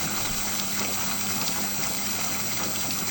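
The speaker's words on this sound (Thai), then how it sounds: "นี่ครับน้ำไหลแรงดีครับ" A solar-powered water pump pushes a strong, steady gush of water, loud and continuous with a constant rushing hiss and low mechanical hum throughout.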